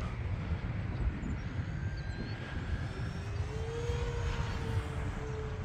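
An electric E-flite T-28 radio-controlled model airplane (1.2 m wingspan, 4S battery) whines steadily overhead, its pitch rising and falling as it passes, over constant outdoor wind rumble.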